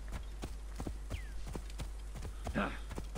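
A horse walks at a slow, steady pace in Assassin's Creed Origins, its hooves clip-clopping in an even rhythm over a low constant hum, with a brief whinny-like sound near the end.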